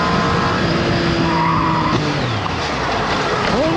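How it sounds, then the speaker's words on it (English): Car tires skid and squeal on pavement during a collision between two cars, a loud sustained screech with shifting pitch layered over engine noise, carrying on for several seconds. "An unexpected collision occurred between two cars."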